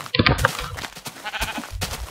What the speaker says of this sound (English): So some sheep looking at my window, I think.